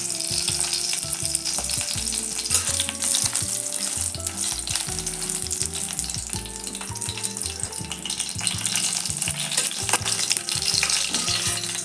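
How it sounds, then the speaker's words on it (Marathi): Green chillies frying and sizzling in hot oil for Khandeshi baingan bharta, a steady loud crackle with occasional stirring, no talking. "आपल्या मिरच्या तळून झाल्या"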